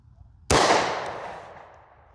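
A single sharp, loud pistol shot from a Smith & Wesson M&P .40 firing Speer Gold Dot 180-grain JHP ammunition, cracking suddenly after a quiet moment and ringing off in a long decaying tail.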